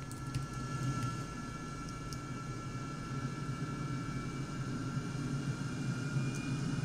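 Low, steady roar of an SSTO spaceplane engine in Kerbal Space Program, starting from zero throttle and rising slowly, a faint continuous rumble with a thin whine above it.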